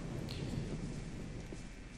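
Steady rain hisses with a low rumble of thunder during a stormy scene in the video game Gothic, a continuous, fairly quiet wash of sound with no talking.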